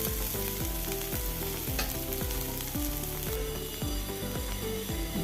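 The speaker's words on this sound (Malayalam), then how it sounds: "അതുപോലെ പിന്നെയും ഇളക്കി കൊടുക്കുക കരിയാതെ നോക്കണം" Kerala-style bitter gourd thoran frying in a pan while being stirred, a steady sizzle under a loud repeating mechanical ratcheting pattern, with no voices.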